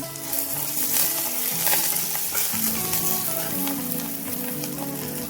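Green chillies sizzle in hot oil with sautéed onion in a pan, a steady crackling fry with light stirring clinks, close and continuous with no voices.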